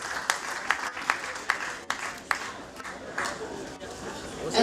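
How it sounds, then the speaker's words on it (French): An audience at an awards show for a woman being honored claps in a moderate, uneven patter with some louder nearby claps, while voices murmur beneath it. "Applaudissez pour elle, applaudissez, applaudissez s'il vous plaît."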